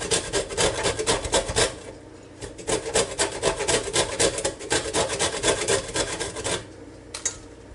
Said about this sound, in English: all you do is take an orange and you just scrape the sides on a grater.